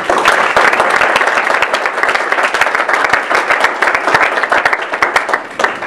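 An audience at a book talk breaks into steady, loud applause for the organizer and students, a dense wash of clapping that continues strongly throughout.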